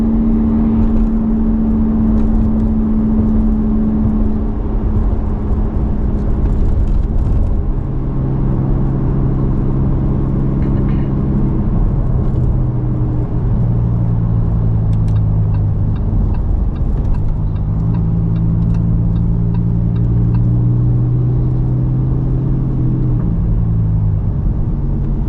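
Lamborghini cruising on winter roads in Strada comfort mode, a low, steady engine rumble with smooth shifting tones as it gently accelerates and settles, heard alone and fairly close throughout.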